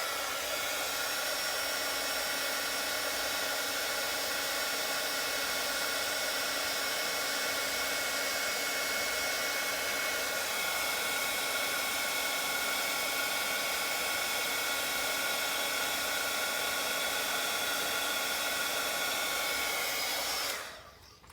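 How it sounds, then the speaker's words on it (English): A heat embossing tool blows a steady, loud, even whir of hot air for about twenty seconds while it melts embossing powder on paper, then cuts off at the end. "So we're going to melt this embossing powder."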